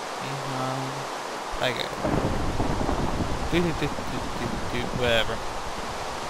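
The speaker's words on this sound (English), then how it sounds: "And it started raining. Excellent. Storming." A thunderstorm with heavy rain in the Minecraft video game, with a steady roar of rainfall and rumbling thunder beneath a person talking.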